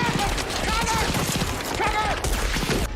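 Dense battlefield gunfire from the film Saving Private Ryan, continuous loud rattling volleys with whistling tones and shouting voices mixed through the din.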